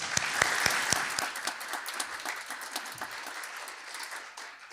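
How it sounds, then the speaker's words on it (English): A crowd applauding, many hands clapping in a dense, steady burst that gradually thins and fades near the end. "Could we please have another round of applause?"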